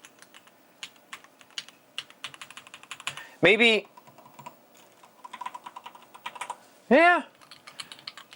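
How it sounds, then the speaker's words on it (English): Clicky switches on a retro mechanical keyboard clatter in rapid, uneven keystrokes, close and crisp, with brief quiet talk in between and two louder vocal bursts breaking the run of typing. "I would say that's probably the same switch that I have in the Red Dragon. It's nice and clicky. Can you hear that?"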